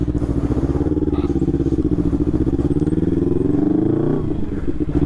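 A Kawasaki Ninja 300 motorcycle engine runs at a service station, a steady, close, low rumble that holds throughout with a brief rise in revs near the end.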